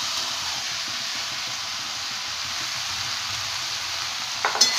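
Cooked rice being tossed with sautéed vegetables and sauces in a hot pan for veg fried rice: a steady, close sizzle runs throughout, with a few sharper scraping clatters near the end.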